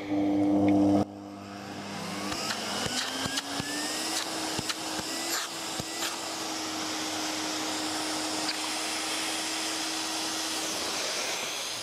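A vacuum motor on an Ecotwist 3-in-1 steam car wash unit starts with a click, then settles into a steady droning whine that rises in pitch and holds, with occasional knocks.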